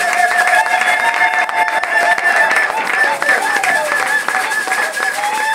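Church congregation at a pastor's consecration acclaiming and applauding: loud, continuous crowd clapping and cheering with voices and shrill ululating cries over it, filling the whole stretch.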